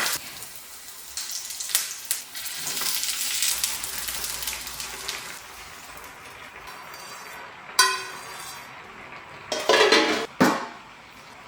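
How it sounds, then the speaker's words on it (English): A tadka of mustard seeds, cumin seeds, garlic cloves and curry leaves fries in sesame oil in a home kitchen: a soft sizzle under clanking pans and scraping utensils, with a few sharp metallic clatters near the end. "For the tadka, I have yellenne, sesame oil, mustard seeds, cumin seeds, garlic cloves, curry leaves, dry red chilies, onions cut in chunks"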